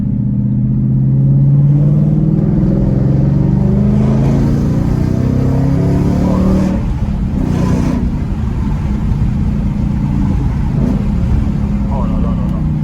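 A Ford Mustang GT V8 rumbles and revs on a drive, a loud, deep, continuous engine note heard from inside the car with a few voices over it.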